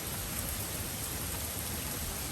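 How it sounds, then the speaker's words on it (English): Heavy rain pours steadily in a dense, even hiss with no breaks, close and continuous, with no voices. "this rain started last night"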